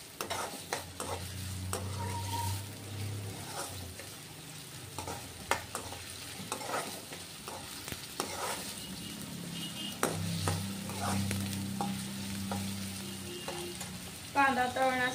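Onion frying in a pan until golden brown, with a steady close sizzle broken by repeated scraping and stirring strokes of a spoon against the pan, and no voices.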